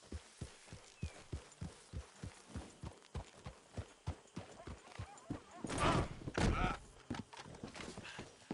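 Horse hooves in Red Dead Redemption clip-clop in a steady, even trotting rhythm, close and distinct, with a brief burst of louder scuffing and rustle partway through.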